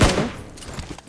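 A grenade blast in the PUBG video game, one loud low boom at the start that decays into a rumbling tail with faint scattered thumps, no talking.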